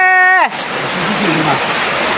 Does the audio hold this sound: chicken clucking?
no